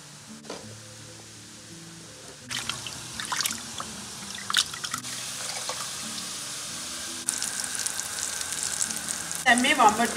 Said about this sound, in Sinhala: මේ වම්බ ටික මේ ප්‍රමාණයෙන් අපි බාගමු